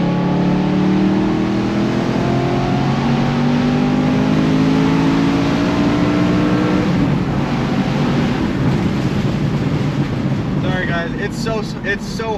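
Sustained hard acceleration from a BMW E92 M3 with an 8,700 RPM V8, engine note climbing loud and continuous through the gears, with wind rush and faint chirps near the end.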